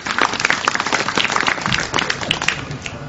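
Clapping at a political rally in Sri Lanka comes through loud and fairly close, a dense patter of many hands that holds steady throughout.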